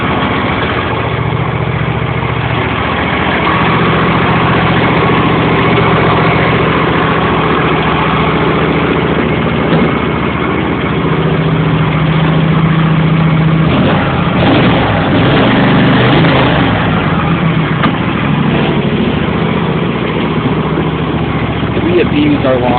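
An old lawn tractor engine running steadily after a cold start, a loud, close, continuous idle rumble throughout, with someone speaking briefly over it.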